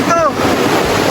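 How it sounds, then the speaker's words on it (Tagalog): Strong ocean waves roll and wash at Gumaus Beach, a loud, continuous surf roar with wind buffeting the microphone, a voice briefly heard over it at the start. "Yun o, lakas ng alon."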